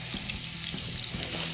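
Onion fries in a pan with a dense, even sizzle, loud and close, with faint stirring ticks and no voices.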